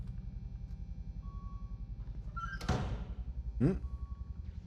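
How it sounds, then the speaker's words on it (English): A door thuds shut in the video game Get Even, a single heavy impact over a steady low in-game hum, followed moments later by a sliding metallic sweep. "bloody doors."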